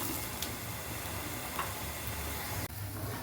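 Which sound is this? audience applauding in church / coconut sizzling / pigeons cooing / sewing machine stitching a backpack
coconut sizzling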